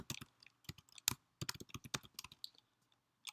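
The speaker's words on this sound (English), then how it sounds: "you're going to type Rails G" Someone types a terminal command on a computer keyboard in a quick, uneven run of close, crisp key clicks that slows to a few last taps, with no talking.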